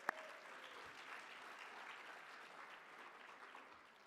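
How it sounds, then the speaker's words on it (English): Audience at an awards dinner applauding, a steady, even patter of many hands clapping from start to finish, moderately distant and without any voices. "give a round of applause"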